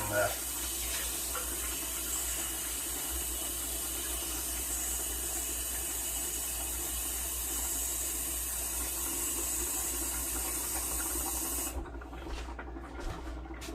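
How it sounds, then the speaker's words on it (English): Water runs steadily from a tap into canning jars for home-canned tomatoes, a continuous close hiss and splash that stops abruptly near the end. "I'm gonna go ahead and put my water in the jars"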